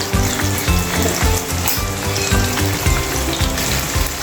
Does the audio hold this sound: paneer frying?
yes